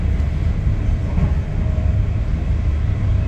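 A charter train heading into London Euston, a steady loud rumble of wheels and carriage noise heard from inside the coach, with no voices.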